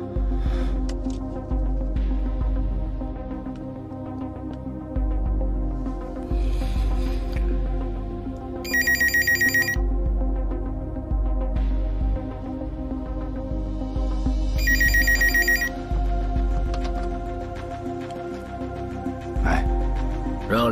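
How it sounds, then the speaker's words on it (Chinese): A telephone rings in two short electronic bursts several seconds apart, standing out over a continuous throbbing, tense music bed with no speech. "听电话"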